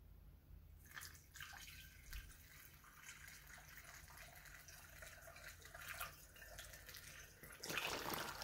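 Hot water runs into an oak barrel with a low, steady splashing and trickling, quiet and continuous, swelling into a louder gush near the end.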